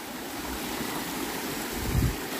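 A stream flows across a woodland trekking path in Valdinievole, making a soft, continuous rushing and gurgling with a brief thump near the end; faint wind runs beneath it.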